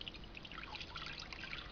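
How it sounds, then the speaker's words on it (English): Liquid pours into a big bowl during a kitchen science experiment mixing oil drops, a soft continuous trickle with bubbling splashes, faint and heard alone. "I'll pour this one in to the big bowl."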